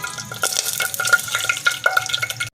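Three cardamom pods fry in hot ghee, giving a close, busy sizzle with crackles and light stirring scrapes.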